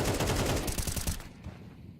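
Rapid bursts of automatic gunfire from a Counter-Strike match ring out loud and dense for over a second, then cut off and leave a quieter tail with a few scattered thuds.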